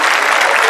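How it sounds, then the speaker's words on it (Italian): Loud, dense audience applause at the Miss Toscana 2022 pageant show, a short close burst of many hands clapping at once with no voices on top. "Oh, gli applausi."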